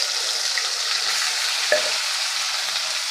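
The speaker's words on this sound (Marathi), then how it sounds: "पेस्ट घातल्यानंतर लगेचच आपल्याला सतत हलवत राहायचं आहे, तेल सुटेपर्यंत आपल्याला हलवत राहायचं आहे।" Masala paste for matar paneer fries in hot oil while being stirred continuously, giving a loud, even sizzle with a short scraping stroke of the spoon near the middle.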